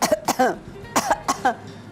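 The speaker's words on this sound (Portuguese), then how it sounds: "esse pigarrear é um ataque brusco das pregas vocais" A person clears their throat several times in quick, harsh bursts, close and loud, with short pauses between.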